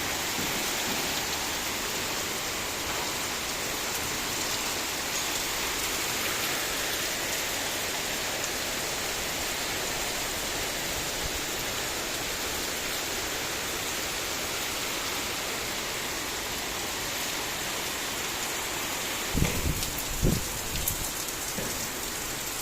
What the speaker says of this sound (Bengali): বৃষ্টিও মোটামুটি ভালোই বৃষ্টি হচ্ছে।